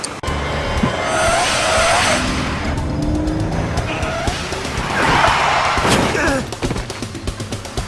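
Car tires skidding and squealing under hard braking in a driving chase video game, a loud sustained screech swelling twice over engine roar, with crash-like noise and voices exchanging lines in the game.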